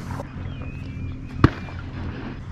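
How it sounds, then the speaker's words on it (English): Gunshot round heard from a fishing boat on the Texas coast near Arroyo City, one sharp, moderately distant crack over steady boat and wind noise. "those rounds sound gnarly"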